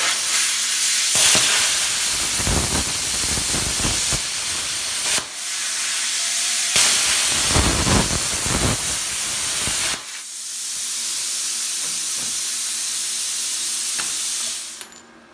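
A Reboot CUT45 plasma cutter set to 45 amps slicing through metal, loud steady hissing bursts that start and stop abruptly in several long passes, close up with no talking.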